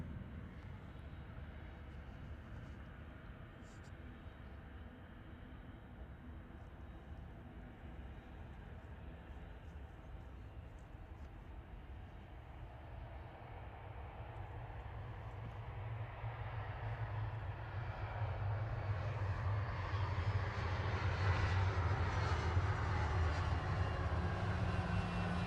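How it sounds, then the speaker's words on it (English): Loganair plane arriving from Aberdeen lands at Manchester Airport, a steady jet engine roar heard from a distance that swells louder over the second half as the aircraft approaches. "This is the Logan Air from Aberdeen."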